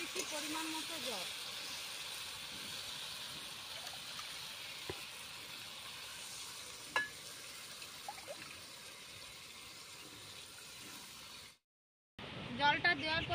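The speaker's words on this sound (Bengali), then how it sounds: "জলটা দেওয়ার পরে ঝোলটা ফুটছে" Rohu fish curry with corn simmering in a pan after water is added, giving a soft steady hiss with faint bubbling that runs for several seconds before a short break.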